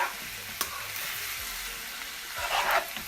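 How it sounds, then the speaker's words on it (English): Ackee and saltfish made with fresh ackee sizzles softly in a pan while being gently stirred and folded, with scraping and light clatter over a constant frying hiss. "Just mix it in gently, because you really want to just fold it in."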